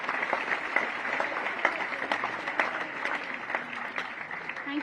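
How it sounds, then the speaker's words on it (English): An audience claps at a tenth-anniversary celebration event, a dense, sustained round of applause from a large crowd, steady throughout, with a voice briefly heard over it. "Can we give her another round of applause?"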